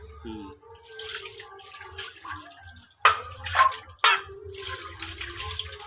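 Water runs from a tap in a home kitchen, a close splashing flow that surges and drops in bursts, with brief voices murmuring nearby early on.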